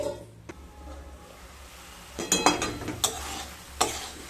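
A spoon stirs drumstick flower curry in a pan, scraping and clinking in a few distinct strokes, with a loud cluster of scrapes in the second half and a faint sizzle underneath.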